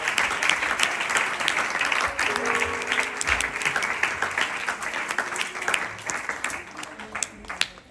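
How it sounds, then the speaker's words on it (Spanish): Congregation applauding in church, lively clapping from many hands with sharp individual claps standing out, mixed with voices calling out and a brief low thud partway through. "¿Cuántos para Dios le dan un aplauso a aquel que reina por los siglos de los"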